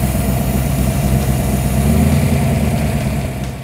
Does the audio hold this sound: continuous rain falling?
no